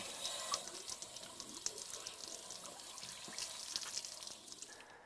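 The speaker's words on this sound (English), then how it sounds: "Using a spray wand that attaches to a garden hose, which can be purchased from a local RV retailer, rinse the inside of the tank thoroughly by inserting the wand in the drain port" A garden hose spray wand rinses out the inside of a Suburban RV water heater tank through its drain port, giving a continuous hiss and splash of water with scattered drips and no voices.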